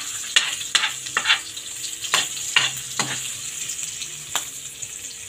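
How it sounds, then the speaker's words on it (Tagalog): Garlic, ginger and onion sautéing in a pan, with a steady sizzle broken by repeated scraping stirs and light utensil clatter, close and fairly loud, no talking. "Ilagay mo ang bawang, pati na rin ang luya at"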